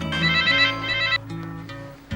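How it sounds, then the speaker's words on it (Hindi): A mobile phone ringtone plays loud and close, a bright melodic ring that cuts off partway through, followed by quieter trailing tones. "फिर उसी रात मैंने सैम को उसके मोबाइल पर कॉल किया।"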